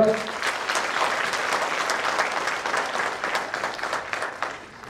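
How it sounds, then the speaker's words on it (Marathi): Audience applause at a stage event, a dense burst of clapping from a crowd that holds steady for several seconds and then fades. "त्यांच्यासाठी जोरदार टाळ्या पडवा"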